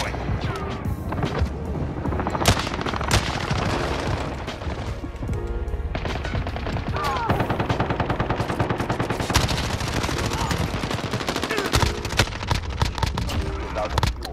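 Video game gunfire crackles in rapid automatic bursts and single shots, loud and dense throughout, with impacts and booms mixed in during a first-person shooter match.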